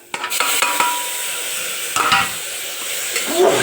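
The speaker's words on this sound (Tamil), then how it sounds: "தக்காளி சேர்த்து நல்லா வதங்கட்டும்" Tomatoes and onions sizzle steadily in a hot pan, with a few scraping stirs and clinks of a utensil against the pan.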